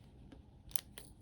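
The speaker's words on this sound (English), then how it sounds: "Very useful scissors." Small scissors on a Leatherman Micra multitool snipping close up, with a faint click followed by two sharp, brief cuts against a quiet background.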